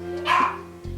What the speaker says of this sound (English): You can hear her dog in the background.